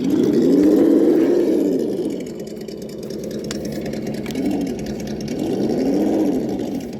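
A Traxxas TRX4 RC crawler's electric motor crawling in second gear, with a close whine that rises and falls in slow waves as the truck works over terrain, broken by a few brief clicks.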